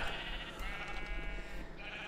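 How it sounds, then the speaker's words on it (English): A Minecraft sheep gives a short, nasal bleat that wavers in pitch, heard close and fairly loud in a brief, continuous call without speech. "Hey guys, I'm with the sheep."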